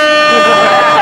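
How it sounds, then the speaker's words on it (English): An air horn gives one loud, sustained blast right up close, steady and unbroken through the whole second with no gaps. "That air horn pushed me over the top."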